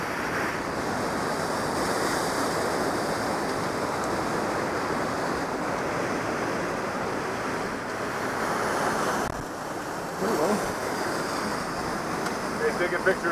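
A dangerous waterfall in Switzerland roars as a steady, loud wash of falling water that fills the whole scene, with a brief dip and a burst of buffeting wind near the end and faint voices under it.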